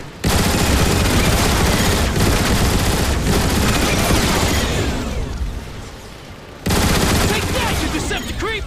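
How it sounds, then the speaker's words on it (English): Turret gun emplacements in a Transformers video game fire at Decepticon Seekers, sustained loud rapid gunfire bursts that dip briefly then resume with full force. "I think you can take them out with the gun emplacements"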